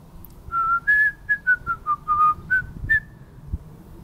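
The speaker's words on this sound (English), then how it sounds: "So I shouldn't whistle." A man whistles a short, casual tune of about a dozen clear, piercing notes at an allotment garden, close to the microphone with a quiet outdoor background and no speech.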